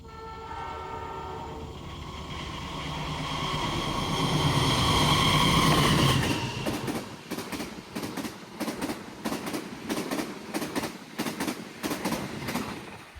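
Malabar express train on an Indonesian line near Gandrung Mangun, first approaching with a rising rumble and horn tones, then roaring past at speed with rapid rhythmic wheel clatter as cars sweep by close and loud.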